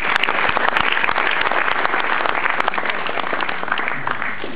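Steady, dense applause fills a Hungarian Fair Play award ceremony hall, loud and unbroken from start to finish with no speech on top.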